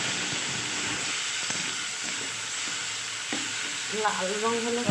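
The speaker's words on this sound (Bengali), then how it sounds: "বেটে নিয়ে কড়াইয়ের মধ্যে তেলে দিয়ে কষতে থাকবো। মশলাটা কষাতে থাকবো।" A ground spice paste sizzles and fries in oil in a wok while being stirred for a rohu fish curry, giving a steady close hiss with scraping stir sounds and a few brief bubbling pops toward the end.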